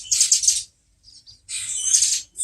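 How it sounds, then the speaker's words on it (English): Birds chirp outdoors in two dense bursts of high, rapid twittering, clear and fairly loud, separated by a short quiet gap with a few faint calls. "So many birds are chirping today."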